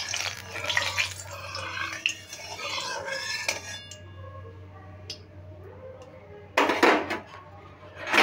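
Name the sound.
spatula spreading oil in a hot pan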